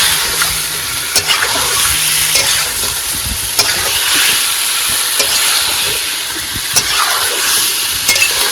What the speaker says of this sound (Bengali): অনেকক্ষণ ধরে কষাইছি কষানো পুরো হয়ে গেছে